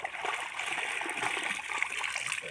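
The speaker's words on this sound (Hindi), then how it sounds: "और अब इनको मैंने मतलब साफ़ पानी में भिगो रही हूँ" Clothes soaking and being rinsed by hand in clean water to wash out detergent, a soft, continuous sloshing and trickling close by, fairly quiet and with no voices.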